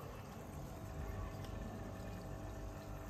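A home aquarium oxygen pump pushes a steady, soft stream of bubbles through the tank water, making a continuous faint fizz and gurgle with no voices.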